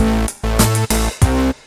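Short drum hits in a repeating pattern with a long, washy reverb tail on the hi-hats that lingers between beats, sounding distant and swimmy.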